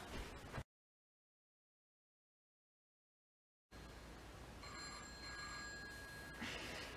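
A telephone rings with a pair of bright electronic tone bursts rising out of steady hiss, heard after a stretch of dead silence, fairly close and alone without any voices.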